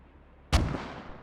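A single mortar shot in a military video game, one sudden heavy boom with a sharp attack and a long rumbling decay that fades over about a second, loud and close, no talking.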